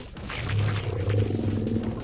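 An angry whale roaring in the video game LittleBigPlanet 3, a loud, deep, sustained growling roar that swells and continues without talk.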